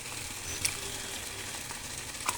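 A pan sizzles steadily while ingredients are sautéed for a black chickpea rasam, with a couple of faint clinks of stirring over the continuous frying hiss.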